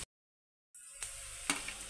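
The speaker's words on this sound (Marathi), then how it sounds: "कांदा इथे थोडासा परतून घेऊया।" Chopped onion sautés in a pan for veg noodles, a soft steady sizzle with two sharp clicks from stirring after a brief moment of silence.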